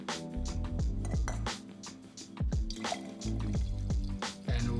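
Mediterranean tonic water poured into a glass of gin, giving a soft liquid trickle and fizzy dripping with faint glassy clinks, close and alone.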